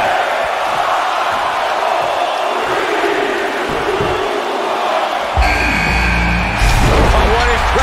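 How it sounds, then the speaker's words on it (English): A large wrestling crowd in the video game WWE 2K19 roars and cheers continuously during an Elimination Chamber match, with a louder swell of noise near the end. "Listen to this crowd."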